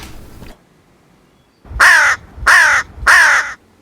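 A hooded crow gives three loud, harsh caws in a steady rhythm, close by, after a brief faint sound and a short silence.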